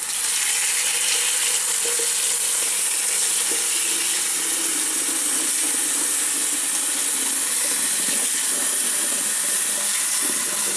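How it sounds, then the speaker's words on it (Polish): Water poured into a pot holding fresh and frozen strawberries, apple and rhubarb for a fruit compote, a steady continuous rush and splash running at even loudness the whole time, with no talking. "Zalewamy wodą."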